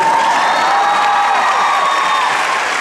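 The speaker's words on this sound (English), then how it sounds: "that's a clap break if I've ever heard" Dense crowd noise with cheering and clapping, a steady roar from a large convention panel audience that holds throughout without any distinct voices.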